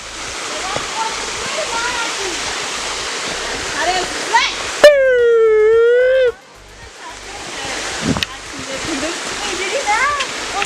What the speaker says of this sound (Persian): چه آبشار خوشگلی